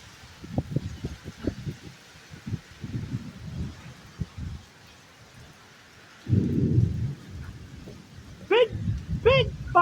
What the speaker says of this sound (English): Big, big thunder.